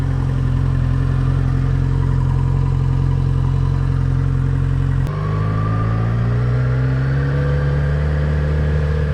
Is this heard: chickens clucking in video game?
no